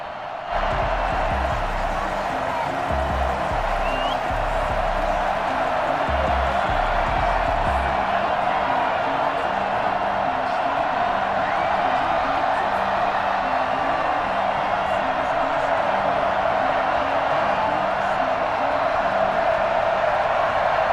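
A steady, even stadium crowd roar fills a Madden NFL 21 video game broadcast before a Kansas City Chiefs versus Buffalo Bills matchup, with no distinct cheers rising above the wash of noise.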